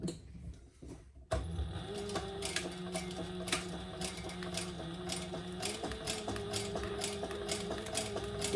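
A sewing machine runs a long top stitch through sticky vinyl, starting after a brief quiet moment and then whirring steadily with a fast mechanical ticking rhythm, close and clear with no talking.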